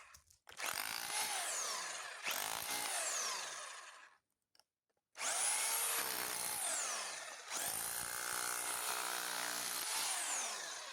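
A Dnipro-M BH-14S barrel-type rotary hammer drill runs in loud bursts, spinning up and winding down twice, then falling silent for about a second before roaring again for two longer stretches.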